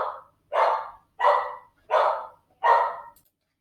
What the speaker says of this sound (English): My dog's barking in the background.